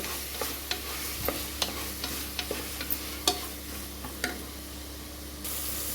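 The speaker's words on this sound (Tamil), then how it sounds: "இந்த தக்காளி அப்படியே கொஞ்சம் வதங்கின மாதிரி ஆகணும்" Tomatoes sauté in a pot for mutton bone rasam soup under a low, constant sizzle, punctuated by sharp, irregular spoon clicks and scrapes against the pan, close by, then a steadier hiss at the end.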